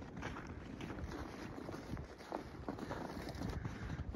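A car drives past on a snow-covered road during a snowstorm, a steady broadband whoosh of tires and engine with wind noise, fairly constant over a few seconds.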